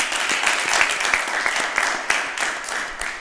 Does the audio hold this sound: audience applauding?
yes